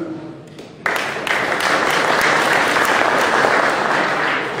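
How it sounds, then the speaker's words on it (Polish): A crowd claps steadily and loudly at a sailing season awards ceremony, the applause swelling quickly after a brief quiet start and holding strong to the end. "Brawa dla naszych kolegów, dla Andrzeja Wojtka i Radka."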